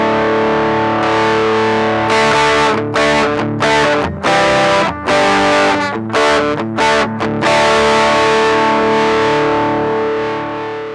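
An electric guitar plays through a Zoo Drive distortion pedal, thick sustained distorted chords with rhythmic stops and restarts, loud and close with no talking.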